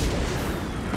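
Roman candle fireworks fire during a scene in Marvel's Spider-Man 2 on PS5, a dense, continuous crackling and booming barrage that holds steady throughout, with a brighter burst right at the end.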